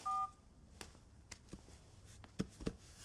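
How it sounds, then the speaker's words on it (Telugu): A telephone keypad being dialed indoors gives one short, clear touch-tone beep at the start, followed by a few faint clicks and soft room noise. "ఆయనకు ఒకసారి కాల్ చేస్తాను."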